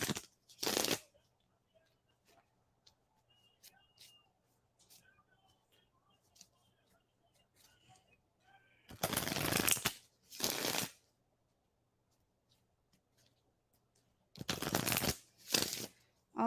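A deck of tarot cards is riffled close up in separate, crisp bursts, one early, a double burst in the middle and another pair near the end, with long near-silent gaps between.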